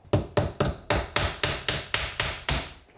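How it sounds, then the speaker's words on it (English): A hammer strikes a putty knife wedged into a 12.8V 170Ah lithium battery case, giving ten sharp, evenly spaced metallic whacks, close and loud, with no talk. "I'm going to be using a putty knife and a hammer to see if we can get this apart"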